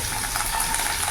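Chopped ginger and garlic frying in hot oil after chicken was fried in it, over a medium gas flame, giving a steady, even hiss and crackle with no talking.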